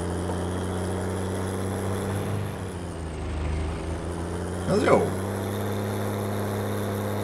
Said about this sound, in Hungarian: Milyen húzatja van, ilyen turbo hang.